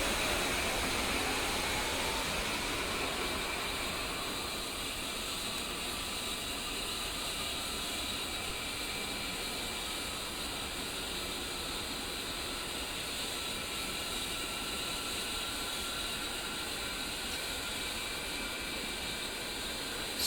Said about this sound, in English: while the engines are spooling up, it's a good time to check our trim and our flaps